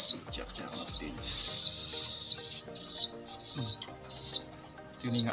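Pigeons at close range make a run of soft repeated calls and chirps that come in short bursts with brief gaps between them.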